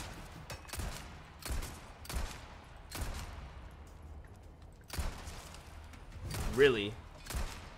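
Pistol gunfire in Resident Evil Separate Ways, a string of sharp, spaced shots under fairly quiet game ambience, with someone briefly talking and a short melodic game cue near the end.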